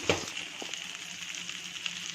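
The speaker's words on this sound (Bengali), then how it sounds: "আমি সবগুলা লাল করে ভেজে নিব।" Cashew nuts fry in a pan, a soft, faint continuous sizzle with a small clack at the start, lasting only a couple of seconds.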